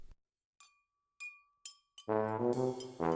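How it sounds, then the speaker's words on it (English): Several bright, ringing clinks of forks against plates at a family dinner, spaced apart and isolated, followed by a loud sustained sweep of ringing tones. "Just the sound of forks clinking and our family's voices."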